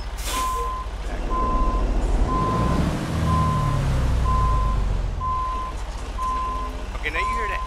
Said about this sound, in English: Park the brakes and Freightliner do sound like that.